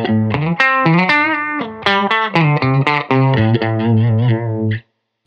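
An electric guitar played through a Thorpy FX ER-2 Uni-Vibe pedal on its chorus setting picks out a melodic run of distinct notes with a warm, wavering shimmer, then falls silent near the end.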